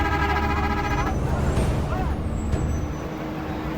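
A bus grinds through heavy, aggressive Bangladesh traffic with a loud, close engine roar, a sharp air-brake hiss and surrounding road noise, and a voice speaks over the din.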